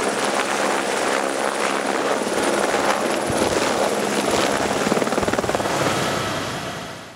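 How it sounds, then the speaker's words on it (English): A Squirrel helicopter from the Air-Glaciers airbase at Saanen-Gstaad drones steadily with a rapid rotor chop, loud and close, fading slightly at the end. "During the winter, the base uses this helicopter, the Squirrel."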